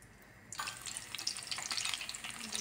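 Sliced banana fritters (maruya) in batter hit hot oil and burst into a bright, crackling sizzle that stays steady and close until the end, with no one talking.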